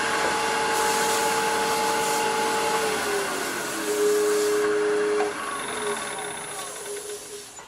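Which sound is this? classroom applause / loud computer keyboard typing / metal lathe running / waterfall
metal lathe running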